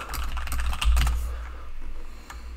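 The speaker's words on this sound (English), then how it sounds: "Can you guys see as I'm typing here in Visual Studio Code?" Quick, light keystrokes on a computer keyboard while writing code in Visual Studio Code, a close, steady patter of clicks heard alone.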